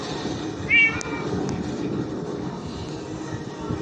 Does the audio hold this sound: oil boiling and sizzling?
no